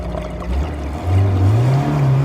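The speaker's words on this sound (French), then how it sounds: "Là c'est le moteur qui aspire l'eau là." A motor pumps water up from a spring, a steady low droning hum that rises in pitch partway through, close and loud with no talking.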